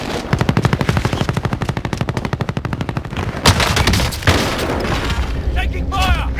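Rapid automatic gunfire in a Plunder-mode video game: a long, loud, evenly spaced burst of shots followed by a few heavier booms and scattered shots, with game voice callouts mixed in.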